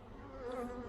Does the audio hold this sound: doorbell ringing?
no